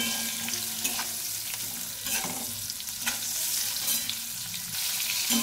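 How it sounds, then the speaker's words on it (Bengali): Sliced okra (bhindi) fries lightly in a pan of oil for a Bengali mixed-vegetable dish with mustard, giving a steady, close sizzle with a few stirring scrapes and no voices. "ভাজলে সেই পিলপিলে ভাবটা চলে যাবে, তার জন্য একটু হালকা ভেজে নেব"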